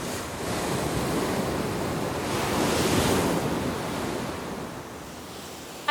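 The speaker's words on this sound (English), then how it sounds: "It seems such an extraordinary place to live, so wild and windy, with these crashing waves all around." Waves crashing around a wild, windy cliff-top by an ancient settlement in an archipelago: a steady roar of surf swelling and easing, with buffeting wind noise on the microphone throughout.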